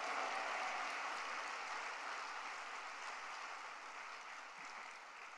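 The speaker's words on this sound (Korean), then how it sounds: "우리 하나님께 감사의 박수 올려드려야 되겠습니다" Congregation applause at a church prayer conference, a broad, steady wash of clapping heard from a distance that slowly fades a little toward the end.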